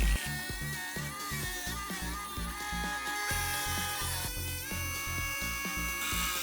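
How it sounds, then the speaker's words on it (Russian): A handheld rotary tool grinds and trims fiberglass laminate parts for the trigger mechanism of a homemade crossbow, a steady close whine with rhythmic, repeated pulses as it bites into the material. "Подгоняю все это дело бормашинкой."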